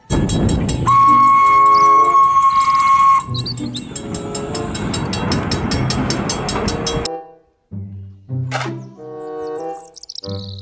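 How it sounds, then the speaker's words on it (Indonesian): Toy Thomas train running with a loud mechanical whir and a long electronic whistle tone, followed by short chiming melody bursts after the motor noise stops. "Kereta Thomas"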